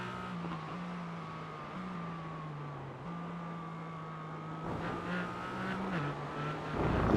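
A McLaren race car in a racing video game accelerates down the straight at Misano World Circuit, engine droning steadily and stepping up through gear changes, rising louder toward the end.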